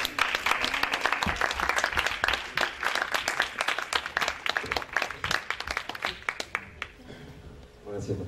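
Audience applause at a short-film festival awards night in Diamante, greeting the arriving director; dense clapping fills most of the stretch, then thins out near the end as the room quiets.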